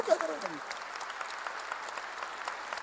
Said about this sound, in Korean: 박수를 하나 더 해주세요